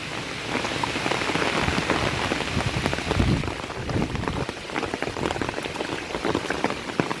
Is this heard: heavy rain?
yes